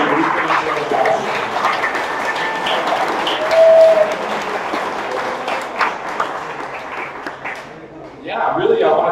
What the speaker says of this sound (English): I want you all to give yourselves a round of applause as well